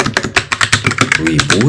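Rapid keystrokes on a computer keyboard, a brisk irregular run of close, crisp clicks and taps, heard alone without talking.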